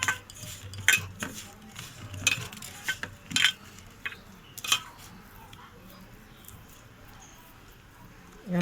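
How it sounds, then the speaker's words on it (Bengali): Chili paste and a little water being mixed in a pan, with several sharp scrapes and clinks of a utensil in the first five seconds, then a quiet stretch. "আর একটু মিশিয়ে দিলাম।"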